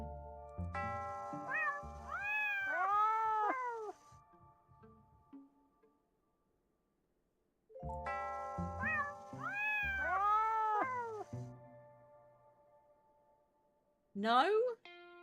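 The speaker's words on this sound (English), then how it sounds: "Is there a duplicate cat noise?" Two bursts of harmonic cat meows repeated as a sound effect, each a few seconds long with several rising-falling cries, separated by silence, followed by a short sharp high cry at the end.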